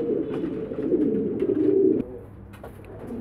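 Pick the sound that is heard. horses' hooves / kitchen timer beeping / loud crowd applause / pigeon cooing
pigeon cooing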